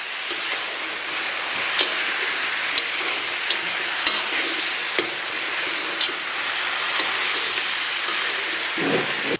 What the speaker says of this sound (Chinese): 咱们把提前准备好的酱给它下里边。 简单的给它煸炒一下